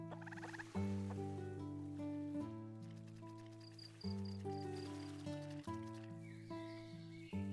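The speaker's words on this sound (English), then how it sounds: "Come over here, chicken." Chickens cluck in the farming game Clanfolk, their calls mixed under steady background music with repeated tonal chords across the whole stretch.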